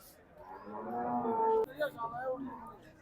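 A cow moos once in a drawn-out, harmonic call, followed by a shorter second low from cattle nearby, with faint background noise, at the Dabwali cattle market in Punjab.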